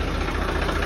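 A tractor engine idles steadily nearby in a short burst, a low continuous rumble with a throbbing pulse and no voices over it.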